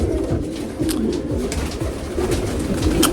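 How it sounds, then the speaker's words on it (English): Fancy pigeons coo continuously in a stock loft, several birds overlapping in low, rolling, throaty calls that are close and fairly loud throughout. "these fancy pigeons are amazing."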